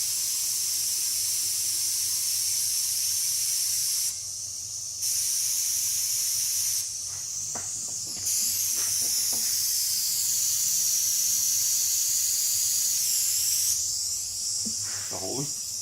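Air hissing steadily out of a leaking vintage non-radial tire with no sealer, a constant close bright hiss broken by a couple of short pauses and some handling clatter.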